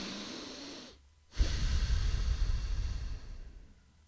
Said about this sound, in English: Let's all do a deep breath together.